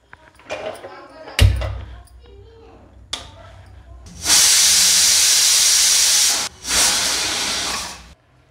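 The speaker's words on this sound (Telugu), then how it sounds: "కుక్కర్కి మూత పెట్టుకొని స్టవ్ ఆన్ చేసుకొని ఉడికించుకుందాం." A pressure cooker cooking chana dal lets out a loud, sustained steam hiss that runs for about two seconds, stops briefly, then resumes, following some quieter kitchen clatter and a thud.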